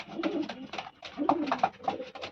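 Pigeons in a home loft coo repeatedly in soft, throaty bursts close to the listener, several overlapping calls rising and falling in waves with brief pauses between them.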